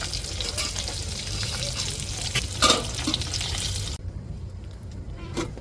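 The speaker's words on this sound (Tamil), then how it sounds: "எப்படி கொதிக்குதுன்னு பாருங்க" A pot of avial vegetable stew bubbles at a steady boil, with a dense, continuous hissing simmer close to the microphone that softens somewhat toward the end.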